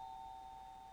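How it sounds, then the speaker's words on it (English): A single electronic doorbell tone in a video game rings steadily for about a second, clean and fairly faint, with no voices. "Someone rings the doorbell repeatedly."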